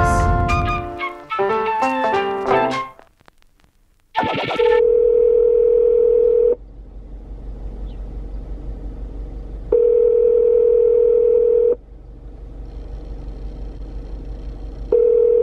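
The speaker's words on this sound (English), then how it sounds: "Calling Monica. She's not answering" Outgoing telephone call in which the line rings repeatedly and goes unanswered, a steady loud ringback tone sounding in long bursts with quiet gaps between, preceded by a few seconds of dialing beeps and handling noise.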